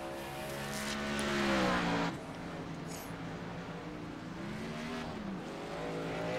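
A race car engine droning on the track in a racing video game set at Atlanta Motor Speedway, a steady loud tone that shifts in pitch as the car rolls out and accelerates, heard alone without talk.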